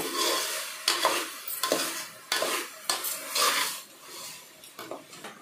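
Okra and tomato fry in oil with salt in a pan, under a bright, continuous sizzle broken by repeated spatula scrapes and stirs, close and fairly loud.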